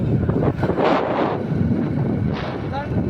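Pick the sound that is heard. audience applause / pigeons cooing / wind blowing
wind blowing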